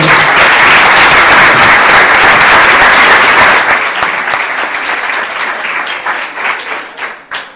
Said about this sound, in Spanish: Un fort aplaudiment per ells dos